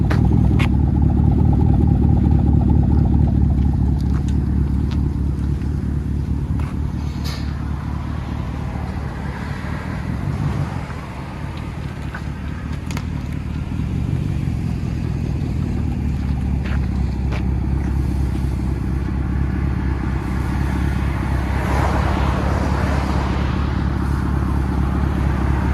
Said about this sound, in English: Here it is at idle.